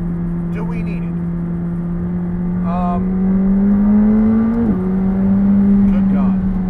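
A McLaren 765LT sports car engine drones steadily and builds in pitch as it accelerates, with a brief dip and shift near the end, loud and close inside the cabin, with a voice talking over it at moments.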